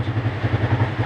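A motorcycle engine idles close by during troubleshooting of the throttle cable and idle, producing a steady, loud, low chugging pulse with a slightly rattly texture.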